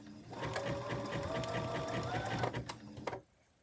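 A sewing machine stitches a dense zigzag across a shirt near a button placket, running steadily and close for about three seconds before stopping abruptly.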